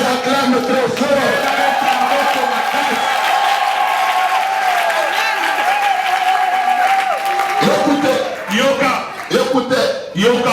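A church congregation claps and cheers loudly with sustained applause and shouting voices, a dense crowd sound that breaks into more scattered bursts toward the end.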